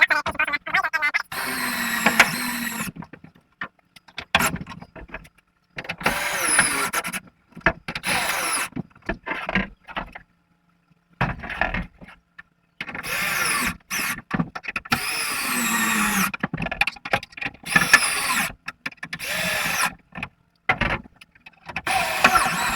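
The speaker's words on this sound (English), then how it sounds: "I'll just finish getting them in with the power drill" A power drill drives bolts into a windmill structure in repeated short whirring bursts with gaps of silence between them, close and moderately loud, with no talking.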